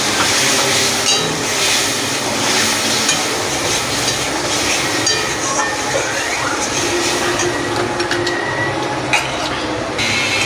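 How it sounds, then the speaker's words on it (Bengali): Hog plum pieces with mustard paste stir-frying in a pan for a sour prawn dish make a loud, continuous sizzle, with scraping stirring strokes close up and no talking. "আমি এবারে সর্ষে বাটাটা দিয়ে আরেকটু কষে নেব"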